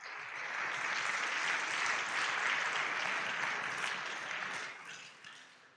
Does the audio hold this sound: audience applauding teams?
yes